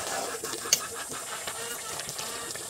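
A pot of cassava leaves cooked in coconut milk boils on a farmhouse stove, giving off a steady close hiss and bubbling simmer with a single sharp tick early on.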